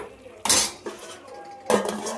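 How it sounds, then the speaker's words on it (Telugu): A metal lid set onto a pot of boiling chicken curry, giving two sharp clanks about a second apart, close and fairly loud, with a softer scrape between them. "ఇంకా ముక్కలు అయితే బాగా ఉడుకుతూ ఉన్నాయి కదా, మూత పెట్టేసుకుందాం"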